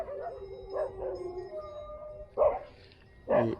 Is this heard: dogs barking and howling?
yes